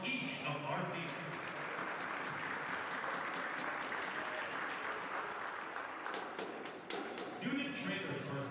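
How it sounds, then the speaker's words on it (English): Sustained crowd applause at a women's college basketball game, honoring seniors in a gym; steady dense clapping throughout with a few thuds and taps near the end, and voices murmuring underneath. "Let's give them a warm round of applause as we acknowledge each of our seniors."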